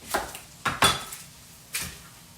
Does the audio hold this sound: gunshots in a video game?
no